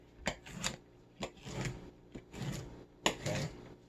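Knife chopping cabbage leaves on a cutting board for a stir-fry, a series of quiet close crisp cuts in irregular bursts with short pauses between, no talking.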